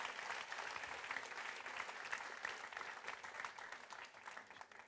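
An audience claps in a church service, a dense, steady patter of many hands continuing for several seconds, fairly quiet and distant, with no speech over it.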